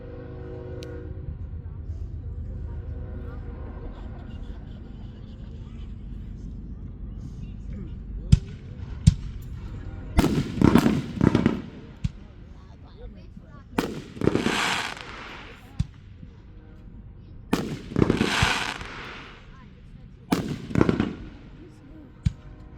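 Fourth of July fireworks bursting outdoors in a string of loud, booming explosions, several close together with crackling tails, after a stretch of crowd murmur and chatter.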